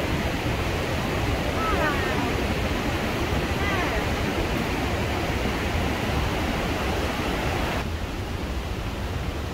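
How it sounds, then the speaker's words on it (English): Niagara Falls in New York pours down with a steady, broad roar of rushing water that continues unbroken throughout, with faint voices nearby. "look at this beautiful waterfall."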